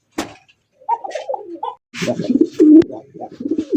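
A Lahori pigeon at a farm coos close up in a series of low, throaty rolling calls, with a brief flutter at the start and the cooing growing louder toward the end.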